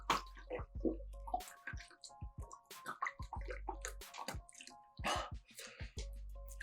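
Someone gulps down a bottle of water in quick repeated swallows, with wet gulping, sloshing and breathy pauses, close to the mic and without speech.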